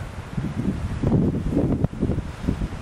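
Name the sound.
wind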